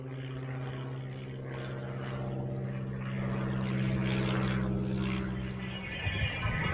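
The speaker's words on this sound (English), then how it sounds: "Really old biplane up there, look." An old biplane drones overhead with a steady, moderately faint propeller engine hum that swells slightly as it passes, heard outdoors without talk.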